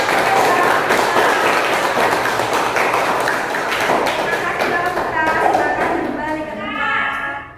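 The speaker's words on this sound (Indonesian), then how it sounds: "kita beri tepuk tangan" Students in a classroom mathematics lesson clap together in a loud, steady burst of applause that fades near the end, with a few taps and thumps mixed in.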